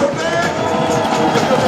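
Sustained applause from an audience at a company celebration event in Thailand, a dense steady patter of clapping with crowd voices mixed in throughout.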